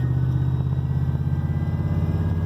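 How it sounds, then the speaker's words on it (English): A car rolls along at about 20 mph with a steady mid-low engine drone, and a hard transmission shift into second gear jolts the otherwise continuous hum. "It shifted real hard in second just then"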